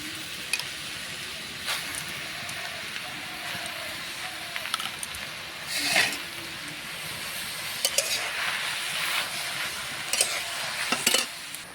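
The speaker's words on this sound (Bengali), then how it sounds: "এইবার পাট শাকটা আমি একটু ভেজে নেব।" Jute leaves fry in a pan with a soft, steady sizzle while a utensil stirs and scrapes through them in irregular strokes, close and moderately loud, with no talking.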